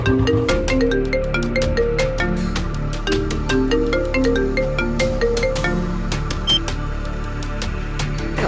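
A mobile phone ringtone plays loudly and continuously, a bright repeating melodic tune with sharp plucked notes and no talking over it.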